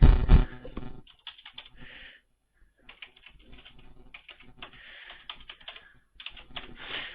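Typing a new password on a computer keyboard: bursts of quick light key clicks close by, with short pauses between runs of keystrokes.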